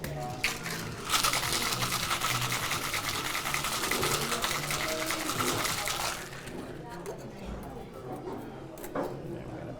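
A cocktail shaker holding syrup and 2.5 ounces of puree is shaken hard, its dense rattling lasting about five seconds before it stops, then quieter clinks and handling follow.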